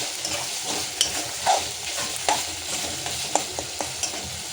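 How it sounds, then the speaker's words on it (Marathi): Crushed tomatoes fry in hot oil with coriander for a Maharashtrian chavli bhaji with dried bombil, giving a steady close sizzle broken by sharp scraping clicks of a spoon stirring the pan, with no voices. "थोडेसे टॅमॅटो चांगले क्रश करूया ह्या तेलामध्ये।"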